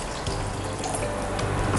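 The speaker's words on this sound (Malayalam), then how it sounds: "ബാക്കിയിരിക്കുന്ന വെള്ളം ഒഴിച്ചു കൊടുക്കാം" Water pouring into a simmering fish masala curry in a pan, a steady continuous splashing rush lasting throughout, close and moderately loud with no voices.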